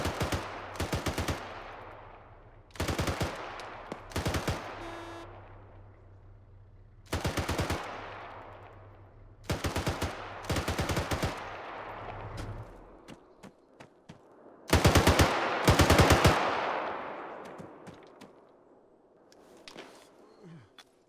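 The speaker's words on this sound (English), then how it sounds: "I love hearing these gunshots from so back far away." Gunfire crackles across an Arma 3 battlefield in repeated bursts of automatic fire, each volley rolling out into a long echoing tail, with quieter single shots and thumps between the bursts.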